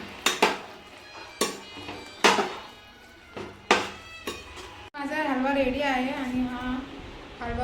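A spoon clanks against a pot in several sharp separate strikes while carrot halwa is mixed with cardamom powder ground into sugar, then someone talks over a soft continued scraping.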